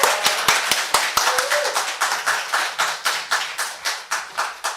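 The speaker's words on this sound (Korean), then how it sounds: "박수로 할렐루야 환영합니다" Church congregation clapping in welcome during a Sunday worship service, a dense run of hand claps settling into a steady rhythmic beat, close and loud, with no voices over it.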